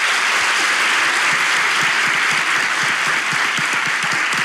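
Steady, loud applause from a studio audience at a Turkish relationship-quiz show, dense clapping filling the whole stretch without voices.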